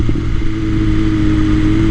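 A 2021 BMW S1000RR with a new Akrapovic Evolution exhaust holds a loud, steady engine note nearby, a dense droning growl that lasts about two seconds without a voice over it.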